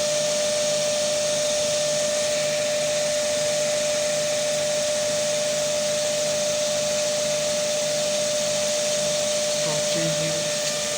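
Separately excited DC motor in a lab running steadily near 1500 rpm, a constant close whine and hum with a faint brief clatter near the end.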